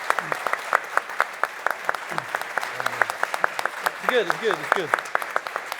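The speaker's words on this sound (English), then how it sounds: "So can we give a round of applause to these guys?" Audience at a cross-border payment transfer demo applauding after a presentation, a steady patter of claps throughout with brief voices speaking over it.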